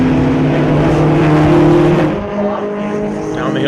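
Formula Vee race cars on a 2.4 km circuit come down the hill and across the line, their engines a loud buzzing drone that swells and then drops away as they pass close by.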